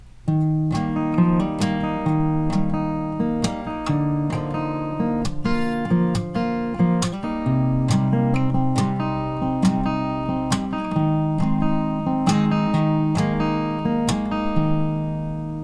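A guitar plays the strummed intro of a song in a steady rhythm, chords ringing and shifting as the notes change, close and clear without voices.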